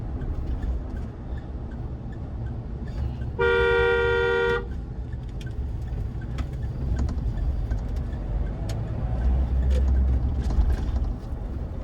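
A Mahindra Thar rolls along with steady engine and road rumble, and one long, loud horn blast rings out for about a second near the middle.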